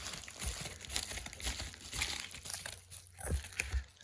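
Scissors cut through crinkly bullion packaging during an unboxing of 1901 gold, giving close, faint plastic crinkling and snipping in irregular bursts.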